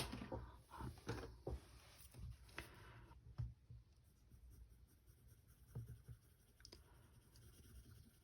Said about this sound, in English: And then I just used a regular pencil for the tires.